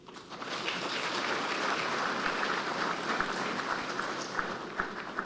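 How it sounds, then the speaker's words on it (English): Sustained applause from a large audience at a military college graduation ceremony, a dense, steady clatter of many hands clapping throughout, moderately close and without speech. "I kindly request we appreciate this outstanding team with a warm round of applause"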